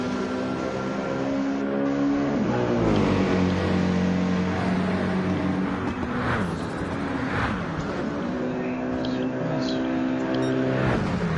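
Race cars on cold tyres in a sim racing video game, with several engines droning and whining together, their pitches rising and falling through gear changes in a steady, continuous roar.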